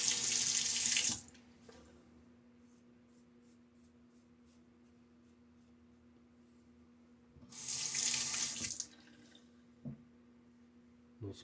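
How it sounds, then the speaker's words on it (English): Tap water runs into a sink in two loud bursts, about a second at the start and again near the eighth second, during a wet shave with a Timeless 68 open-comb safety razor, with quiet handling and faint splashes between. "little splash of water now."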